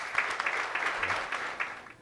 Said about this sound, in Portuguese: Palmas para vocês, por favor.